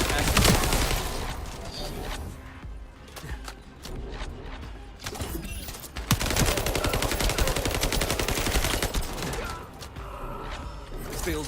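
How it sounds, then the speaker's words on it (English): Rapid turret gunfire from a deployed soul turret in the shooter game The First Descendant, rattling bursts mixed with mechanical clatter and other battle effects, loud and sustained, briefly easing in the middle before resuming steadily. "Soul turret active."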